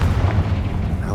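A Confringo spell explodes in Hogwarts Legacy inside an abandoned mine, giving a short, dense, low boom with a sustained rumbling roar and no clear pause.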